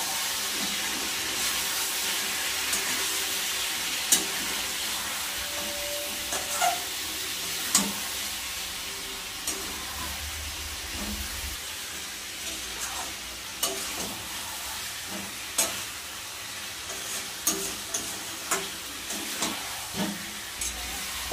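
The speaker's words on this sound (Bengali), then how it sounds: "এখানে কিন্তু এখন মাংস কষানো চলছে" Chicken pieces frying in a pan with turmeric, chili powder and salt, a constant hissing sizzle broken by recurring utensil scrapes and taps as it is stirred, close and without talk.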